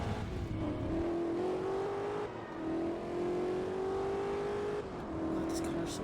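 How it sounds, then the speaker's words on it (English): A high, steady car engine whine in the racing game Forza Motorsport 2, held near max revs, with brief dips as gears shift, under a continuous droning hum. "hope you enjoy hearing that noise of being at max revs"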